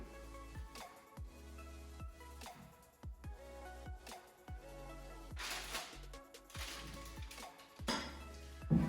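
A metal oven tray is handled and set up with a series of faint clanks, taps and scraping knocks at an irregular rhythm, growing a little busier toward the end.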